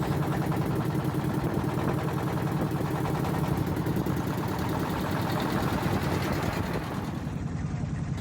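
A loud, steady chugging of a motor trawler's diesel engine on the river toward Bholaganj, Sylhet, runs throughout, thudding in an even rhythm with no break.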